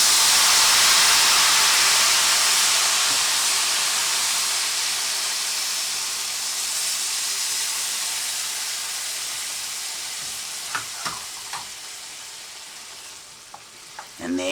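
A ladle of stock hits hot risotto rice in a pan, giving a steady, fairly loud sizzle and hiss that fades slowly over the clip. A few faint clinks come near the end, and no one speaks.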